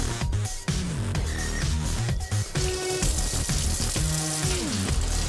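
Tap water runs steadily over a plastic face-gel bottle cap being rinsed and scrubbed with a brush at a sink, a continuous close splashing with brief knocks and handling clatter throughout.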